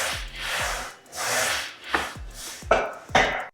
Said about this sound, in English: So it's the same sound that you'd hear from a typical Smith machine